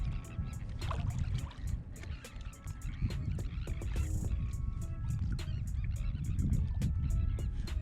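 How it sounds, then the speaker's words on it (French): Seagulls call over open water during a float-tube fishing session, with repeated honking cries, some near and some farther off, above a steady wash of water and wind noise. "En tout cas, on est bien bercé par le bruit des mouettes."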